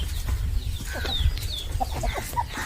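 Chickens, including a Salem breed, cluck in short irregular bursts at moderate distance on a goat farm, with faint background noise and no speech.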